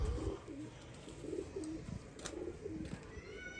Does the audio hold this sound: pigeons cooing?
yes